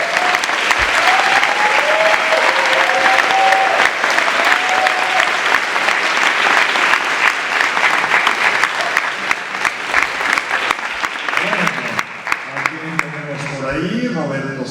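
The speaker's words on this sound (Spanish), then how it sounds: "Un aplauso para Gaby." Audience at a panel discussion on Pedro Páramo applauds, a loud sustained roll of many hands clapping with some voices over it, tapering near the end as a speaker resumes talking.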